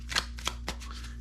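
Deck of cards shuffled for a Warfighter Vietnam board game, three quick riffling bursts close by with brief pauses between, over a steady low hum.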